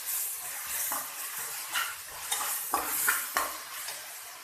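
Minced keema being stir-fried with garlic ginger paste in a pan, with a soft continuous sizzle and a spoon scraping and clinking against the metal several times, close and fairly quiet.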